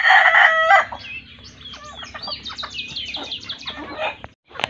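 Native chickens on a farm, a rooster crowing loudly and close at the start, then hens clucking and chattering in short overlapping calls.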